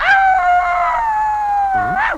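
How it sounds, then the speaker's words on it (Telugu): A dog lets out a long, sustained howl that holds a steady pitch before rising and breaking off at the end, loud and close. "అదే ఇందాకడి నుంచి అట్టాగే మురుగుతున్నా కుక్క."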